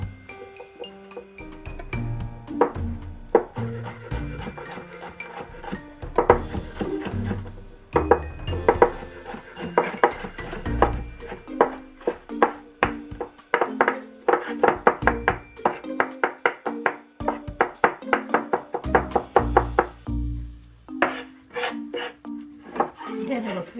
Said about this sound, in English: next we can mince the garlic